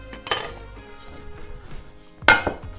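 Crushed garlic cloves drop into a pan with two sharp clattering hits, one early and one near the end. Light clinks and kitchen handling noises fill the gap between them. Close and fairly loud, with no talking.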